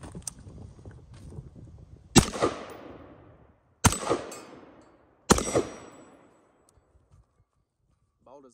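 Three sharp, loud gunshots ring out at a Level IV ceramic armor plate from 15 yards, each a sudden crack followed by a decaying echo, spaced about one and a half seconds apart, then near silence.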